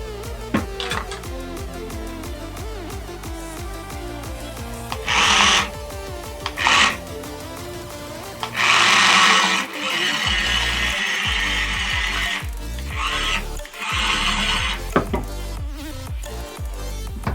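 A wireless remote control toy car with lights runs after being switched on, giving a buzzing whine that repeatedly swells into louder high-pitched motor bursts, then drops back, heard close with a tonal background.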